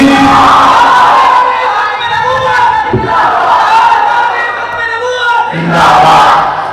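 A large crowd at a Khatm-e-Nabuwat religious conference in Lahore roars out a loud, sustained chant in unison in answer to a takbir call, the massed voices swelling and dipping across the whole stretch.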